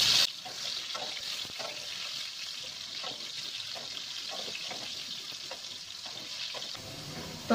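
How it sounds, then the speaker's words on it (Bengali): Potatoes coated with salt and turmeric fry in hot oil with a steady, close sizzle, and soft stirring scrapes and clicks come now and then throughout. No one speaks. "এবার আলুগুলোতে একটু লবণ হলুদ মাখিয়ে প্রথমে আলুটাকে আমি ফ্রাই করে নিচ্ছি"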